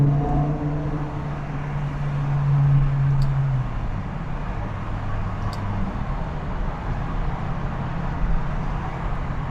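A BMW M6 with a naturally aspirated V10 engine, a smooth low droning note that holds steady, then drops in pitch and settles into a lower cruising hum as the car drives on.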